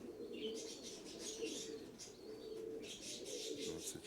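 Several pigeons coo in low, rolling calls that recur throughout, mixed with light chirping and a hint of wing flaps, no one speaking.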